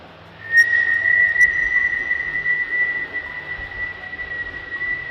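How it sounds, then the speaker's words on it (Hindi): A steady, sustained high whistle tone used as a sound effect in a Hindi horror story, holding loud and unbroken for about five seconds with no voices. "कि तभी एक सीटी का आवाज़ आया।"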